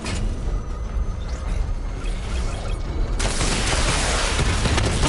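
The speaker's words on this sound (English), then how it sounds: "Missile barrage level 2 ready." Missile barrage firing in Batman Arkham Knight: a dense rolling fusillade of booms and mechanical clatter that swells to a louder, fuller burst of blasts partway through, continuous and close.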